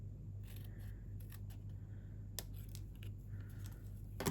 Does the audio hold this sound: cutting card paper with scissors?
yes